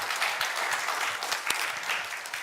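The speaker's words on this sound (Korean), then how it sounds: "하나님께 영광의 박수 올려드리겠습니다" A church congregation claps steadily after a sermon's call to give praise, a dense even wash of many hands sustained throughout at moderate loudness, with no talking over it.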